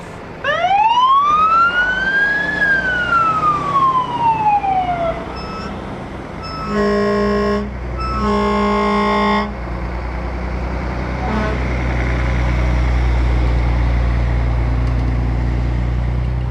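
Fire department trucks pass in a town parade, a loud wailing siren rising and falling, then blasts of a deep air horn, with heavy engine rumble close by.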